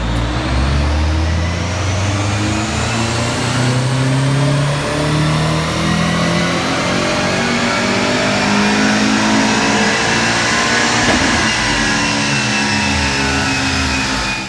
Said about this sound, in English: Here is a clip of it at the mapping at Engine Dynamics.